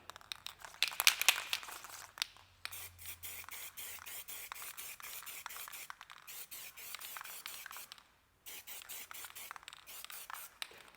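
Duplicolor trim and bumper paint hisses from an aerosol can onto the plastic trim of a minivan in a run of close, short spray bursts with brief pauses between them.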